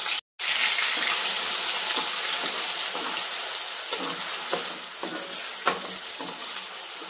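Spice paste with mustard seeds fries in oil in a kadai for a tamarind fish curry, a continuous close sizzle with occasional stirring scrapes, steady and moderately loud after a brief cut at the start.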